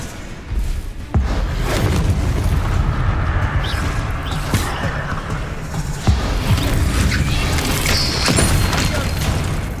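Confringo spell blasts in the Hogwarts Legacy video game, a loud continuous stream of booming and crashing explosions with heavy rumble and sharp thuds, the densest burst arriving after the first second.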